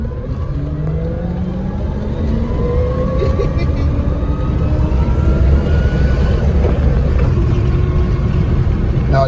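An electric VW conversion car accelerating, a smooth rising electric motor whine climbing in pitch over steady road and tyre rumble, heard from inside the car.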